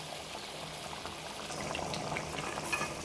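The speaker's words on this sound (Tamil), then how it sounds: "மறுபடியும் ஒரு அரை கிளாஸ் தண்ணி சேர்த்து இப்போ அது கொதிச்சு வந்துக்கிட்டு இருக்குது" A pot of paruppu urundai kuzhambu, a lentil ball curry thinned with half a glass of water, bubbles and simmers quietly, soft continuous bubbling and popping with no speech.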